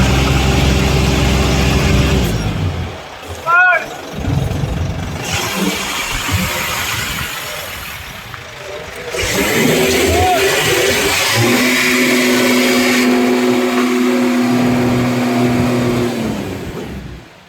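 A Suzuki Wagon R Turbo being unloaded from a truck, its small engine idling and revving in bursts, with clunks and rattles from handling and a steady running hum near the end.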